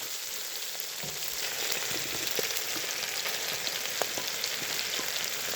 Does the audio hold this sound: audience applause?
no